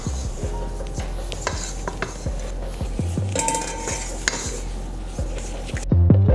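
Almond cream mixture being stirred in a bowl, with repeated clinking and scraping of a utensil against the bowl and some knocking of dishes, steady and close throughout.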